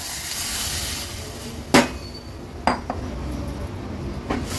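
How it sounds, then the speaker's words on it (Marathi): A ladle stirs buttermilk and gram flour into a hot spice tempering for a Maharashtrian summer meal, giving three sharp metallic clinks against the pot over a steady, soft background hiss. "ताक ओतल्याबरोबर लगेचच असं पळीने त्याला मिक्स करून घ्यायचे"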